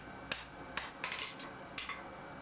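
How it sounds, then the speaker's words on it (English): Hammer blows ring out on hot steel while a hand axe is forged, five or six sharp metallic strikes at an uneven rhythm, close and clear over a quiet background. "you don't need to be too critical about your hammer blows"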